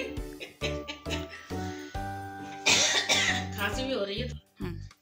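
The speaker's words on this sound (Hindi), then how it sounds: "खांसी भी हो रही है।" A woman coughs several times in short bursts at close range, with her speaking voice mixed in between the coughs.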